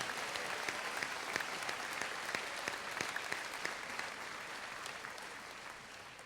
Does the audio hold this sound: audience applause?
yes